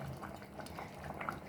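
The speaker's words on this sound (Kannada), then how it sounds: "ನೋಡಿ, ಚೆನ್ನಾಗಿ ಕುದೀತಾ ಇದೆ." A pot of drumstick sambar bubbling on the stove, soft irregular popping and gurgling blips, quiet and close, with no talk.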